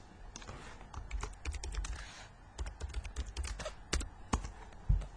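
Close computer keyboard typing in quick irregular bursts of sharp key clicks, with a few heavier keystrokes toward the end, no talking.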